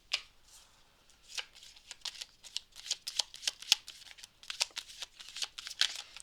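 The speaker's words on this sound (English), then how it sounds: "I'm going to pull a crystal card" Crystal oracle cards are shuffled by hand in crisp, uneven bursts of riffling and flicking, close and fairly quiet, with short pauses between runs.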